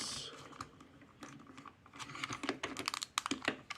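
Plastic Transformers Animated action figure being transformed by hand, its wheels folded; close, quiet clicks, snaps and rattles of small plastic parts, irregular and quickening toward the end, with no voices.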